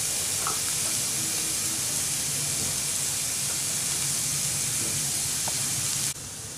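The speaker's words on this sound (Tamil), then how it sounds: "வெங்காயம் வதங்கிடுச்சு" Onions frying in a generous amount of oil in a pan give a steady, continuous sizzling hiss that runs unbroken throughout, fairly close and alone with no talk.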